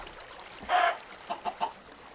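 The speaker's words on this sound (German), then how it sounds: "Die Hühner sind überall." Chickens in the Minecraft video game give short, soft clucks and a brief squawk, several scattered calls over a quiet background.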